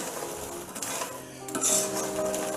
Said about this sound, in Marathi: आपल्या पूर्ण मखाणाला तूप व्यवस्थित लागलं पाहिजे, अशा पद्धतीने आपल्याला त्याला रोस्ट करायचं आहे